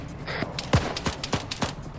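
A few sharp, separate gunshot cracks go off in a Cold War firefight in the video game Arma 3, irregularly spaced and at mixed distances, with no talking.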